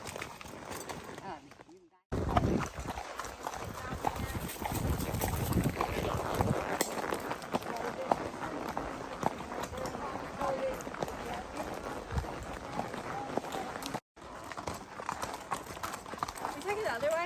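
Horses walking along a trail by the Current River, with steady clip-clop of hooves alongside riders talking and breezy outdoor noise.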